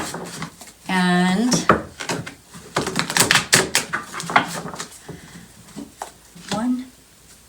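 A deck of cards being shuffled, with brisk riffling taps and flutters mixed with short spoken bits.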